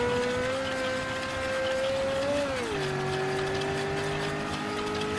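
A car in Mafia 3 drives on a flat tire, its engine drone holding steady, then dipping in pitch and settling lower as it keeps rolling. No voices.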